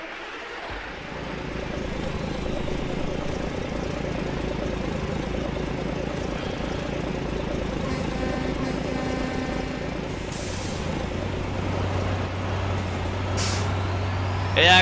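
Diesel engine of a Dodge D6500 Class 8 truck in SnowRunner, running steadily throughout with a low rumble, a deeper engine tone rising near the end and short air brake hisses.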